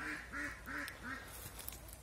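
Ducks quack in an aquatic bird enclosure, four evenly spaced nasal calls close by, followed by quieter ambient rustling.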